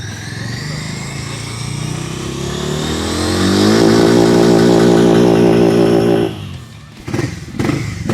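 A Harley-Davidson X440 motorcycle engine idles steadily, its pitch climbing and holding at a higher, louder rev before dropping off, followed by a few brief clunks.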